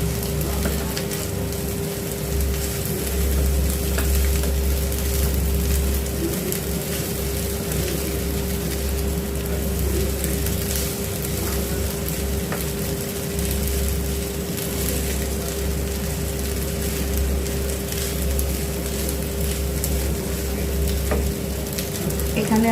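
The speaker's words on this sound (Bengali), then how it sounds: "এখন আমি সব মিশিয়ে নেবো একসাথে।" Pasta sizzling steadily in a pan over a high gas flame while it is stirred and mixed, a loud continuous frying hiss with occasional scraping from the stirring.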